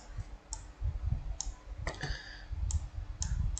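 Several light, crisp computer mouse clicks, including a right-click, sound singly at scattered intervals over a low background hum.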